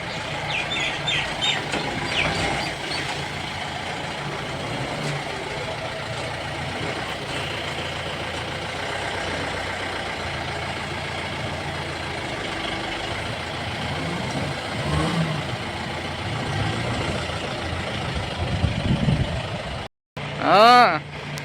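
A car's engine runs steadily as the vehicle sets off on a road trip, a low continuous drone heard from inside with voices talking over it, briefly cutting out near the end.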